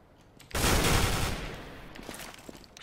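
A loud, sudden broadband blast erupts after a brief quiet lead-in, as a flashbang and gunfire go off in a Counter-Strike matchmaking or ESEA match. It rings on for about a second, then decays into a lingering noisy tail.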